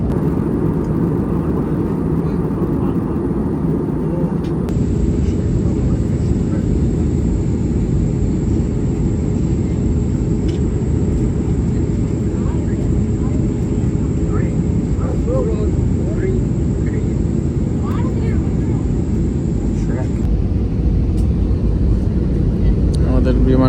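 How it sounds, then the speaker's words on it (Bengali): An airliner descends toward landing over the sea above Vietnam near Phu Quoc. Its cabin fills with a steady, loud, low engine roar and rushing air that never lets up, with faint voices murmuring underneath. "আমাদের বিমানটা খুব দ্রুত ল্যান্ড করবে, অনেক নিচে নামতেছি আমরা"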